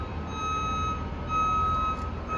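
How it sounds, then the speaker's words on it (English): A construction vehicle reverses at a roller coaster building site, sounding a steady, faint repeated beep over low engine rumble in the distance. "They're bringing out this construction vehicle."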